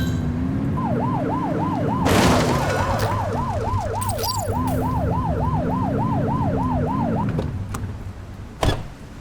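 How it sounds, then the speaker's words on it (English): A police car siren in the video game The Precinct, a rapid yelping wail cycling steadily for several seconds over a lower engine drone, loud and close, then cutting off abruptly. "Get behind them and blip the siren and make them pull over."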